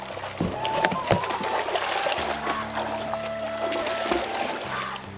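Small fishing boat with an engine moving on coastal sea water, steady motor hum with water sloshing and splashing close by, no talk.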